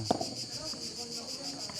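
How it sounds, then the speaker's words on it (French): Cicadas sing in a steady, shrill, continuous drone outdoors in Provence beside a padel court, loud and even throughout, with a brief thump near the start. "Et merci aux cigales de leur chant, de nous accompagner toute la journée."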